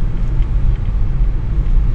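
Night traffic on EDSA, many cars passing in a continuous low rumble, loud and close with a steady roar and no voices.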